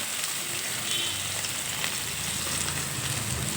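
Pieces of fish fry in a pan after being turned over, giving a soft, steady crackling sizzle that stays even and fairly quiet, heard close with no talking.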